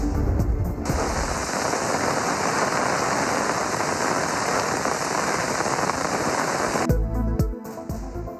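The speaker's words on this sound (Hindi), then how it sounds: "पंजाब के मैदानी इलाकों हज़ारा डिवीज़न और इस्लामाबाद में तूफ़ानी बारिश।" Stormy rain pouring down, a dense, steady hiss of heavy rainfall that runs continuously for several seconds before cutting off abruptly.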